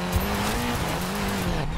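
A max-tuned Volvo 242DL roars in Need for Speed Payback, its engine note holding a steady loud drone through a gear change while the tires squeal continuously, close and alone with no talk.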